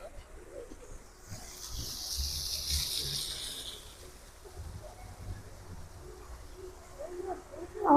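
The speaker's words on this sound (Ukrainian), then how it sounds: "Ось скільки тут голубів" Soft pigeon cooing outdoors amid a gentle background hiss, low murmuring coos rising and fading, with a brief louder sound at the end.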